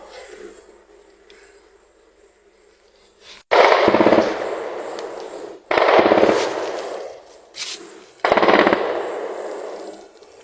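Bursts of automatic gunfire in an armed clash in northern Nigeria: several loud, sustained volleys of rapid shots separated by brief pauses, with quieter background noise before the first burst.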